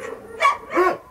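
Two short high-pitched yelps from one-month-old puppies at an animal shelter, close and fairly loud, with a brief pause between them.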